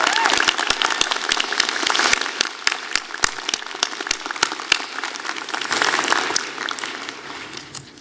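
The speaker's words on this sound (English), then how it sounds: "Please give them a round of applause." Convocation ceremony audience applauding the Okanagan Symphony Wind Ensemble, a full hall of steady clapping with sharp individual claps standing out, thinning slightly toward the end.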